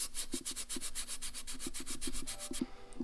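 Light scrubbing of metal mating surfaces on a Mazda RX7 FD 13b engine and transmission, using a red Brillo pad wetted with gear oil; steady rhythmic rubbing strokes, close and continuous, with no talk.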